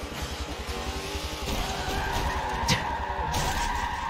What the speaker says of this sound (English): Ever since you initiated my drift back there, I haven't stopped.